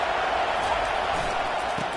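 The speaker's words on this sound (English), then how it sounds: "Big third down as the crowd gets behind this defense." A college football video game stadium crowd cheers on a big third down, a loud continuous roar that stays level for the whole moment.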